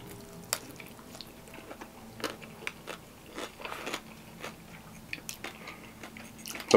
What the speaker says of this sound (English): The pork skin on the top is perfectly fried. It's crunchy. Crackly, but it's not a hard bite.